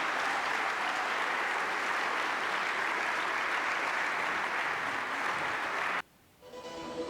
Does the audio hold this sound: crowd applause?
yes